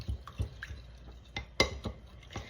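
A spoon stirs a cornstarch and water slurry in a bowl, with quiet scattered clinks and taps against the bowl's side and soft liquid sloshing, close and faint.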